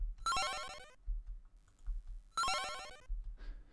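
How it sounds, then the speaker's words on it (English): Short synth notes in Cubase that drop in pitch and volume, played as two quick descending bursts about two seconds apart with a faint third tail, over a low background murmur and no talk. "But if I make a note very short and then I make them go downwards in pitch"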